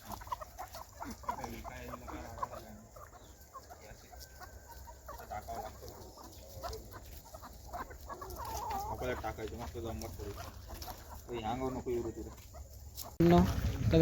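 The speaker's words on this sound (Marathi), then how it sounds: "हे बघा मित्रांनो, सगळ्या कोंबड्या आल्या पळत." A flock of village hens running up together, clucking repeatedly at close range in a busy overlapping chorus, with people talking throughout and a loud knock near the end.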